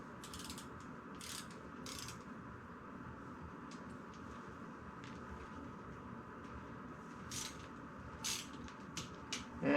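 A tool loosens a pivot bolt on a 2022 Norco Sight full-suspension mountain bike frame, giving quiet ratcheting clicks and short metallic bursts scattered over a low hum, faint and close.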